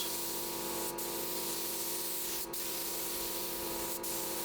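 Spray gun laying the final wet coat of paint on a Ford Transit Custom van: a continuous, close, steady hiss lasting throughout, with only tiny dips at regular intervals and no talking.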